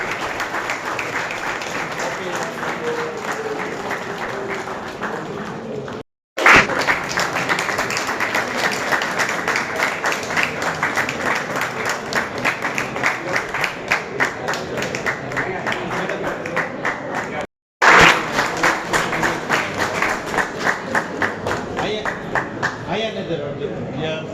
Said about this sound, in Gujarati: એટલે તાળીઓનો ગડગડાટ ચાલુ રાખો